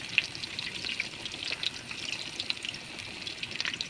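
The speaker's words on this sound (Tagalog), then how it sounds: "Luncheon meat yung niluto natin para sa breakfast." Slices of luncheon meat fry in a pan for breakfast, giving a steady close hiss and sizzle with small crackling pops throughout, alone without talk.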